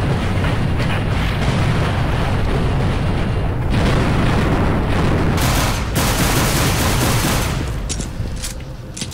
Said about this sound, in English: Did you guys see that nade kill?